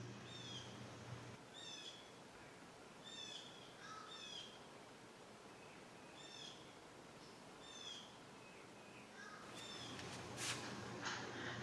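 Birds chirp and call repeatedly in bright, short bursts over a steady outdoor hum on a pond with ducks and Canada geese, heard through an open door, with a louder flurry of calls near the end.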